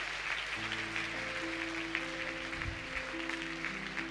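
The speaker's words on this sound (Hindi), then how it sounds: "जोर से ताली बजाएं एक बार ऊंची आवाज में" A church congregation bursts into loud, sustained applause at a healing and deliverance prayer service, the dense clapping filling the room for several seconds while a steady organ-like tone holds underneath.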